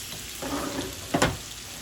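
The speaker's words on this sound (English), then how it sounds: "they're sizzling in this oil and water we put in here earlier" Sausages sizzle steadily in oil and water in a pan, with a brief louder crackle burst near the end; close and moderately loud, no talking.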